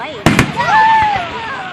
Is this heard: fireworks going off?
yes